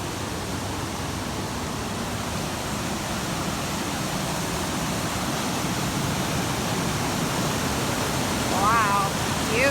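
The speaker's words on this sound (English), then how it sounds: "Let's check out these waterfalls." Steady broadband rushing of waterfalls in the Temagami wilderness, constant and full throughout, with a brief higher chirp near the end.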